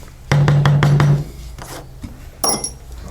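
Leather tooling with a double bevel tool, a run of rapid, evenly spaced mallet taps driving the beveler along the leather, followed by a few scattered lighter taps and rubbing sounds, close and clear with no talking.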